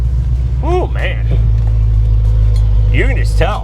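A 1972 Chevrolet Monte Carlo engine runs with a steady, loud, low rumble throughout, and voices break in briefly over the engine's drone.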